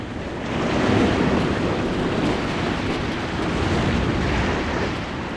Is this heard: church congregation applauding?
no